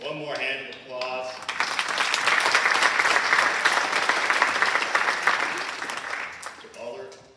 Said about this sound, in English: One more hand of applause.